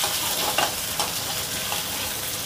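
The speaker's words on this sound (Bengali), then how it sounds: "প্রত্যেকটা আলু দেওয়ার পরে এটাকে ফের একটু ভালো করে ভেজে নিতে হবে।" Potatoes fry in a pan of hot oil while a Bengali fish curry is made, giving a steady, close sizzle broken by a few soft clicks of stirring.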